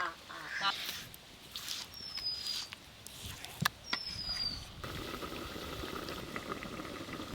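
Potatoes, eggplant and drumsticks boil in a covered pot with a steady bubbling rush, joined by a few short squeaky chirps and a sharp tap midway.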